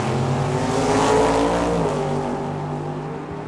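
A 71 Vega and a 68 Camaro leave the drag strip starting line, their engines roaring loudly and steadily before easing off slightly at the end.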